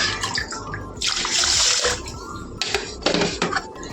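Water pours from a household tap in a burst of steady splashing with a clatter of dishes and pots around it, stopping and restarting briefly.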